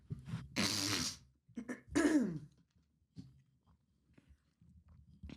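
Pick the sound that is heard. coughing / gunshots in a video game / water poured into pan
coughing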